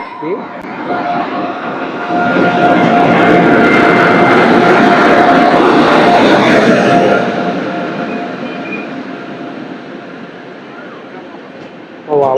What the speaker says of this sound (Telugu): మనకి ప్లాట్ఫామ్ నెంబర్ 1 మీద అయితే ఒక ట్రైన్ వస్తుంది, 17015 భువనేశ్వర్ టు సికింద్రాబాద్ విశాఖ ఎక్స్ప్రెస్ అయితే